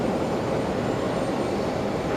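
A Boeing 737 jet departs Brisbane Airport, its engines a steady, dense broadband roar heard from a distance with no voices over it.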